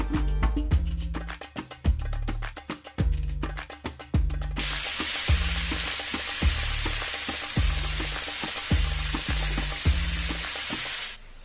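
Fenugreek greens hit a hot pan of crushed garlic and chili, a steady close sizzle and frying hiss running throughout after some earlier knocking and stirring clatter.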